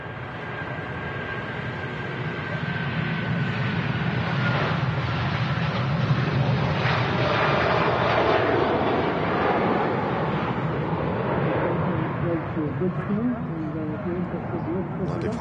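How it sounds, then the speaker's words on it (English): A Virgin Atlantic Airbus A330 rolls for take-off at Manchester Airport, its engines making a broad, steady roar that builds gradually, while someone talks over it throughout. "Virgin 330 on the roll now."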